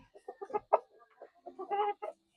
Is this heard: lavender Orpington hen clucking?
yes